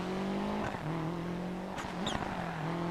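A rally car runs through a slalom sector, its engine holding a steady droning note that dips and climbs as the car shifts its weight through the turns, with a brief tyre chirp.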